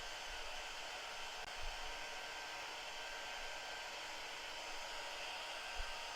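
A hair dryer blows across a wooden cutting board in a steady, even rush of air that holds for several seconds, close and continuous, with a faint thump or two underneath.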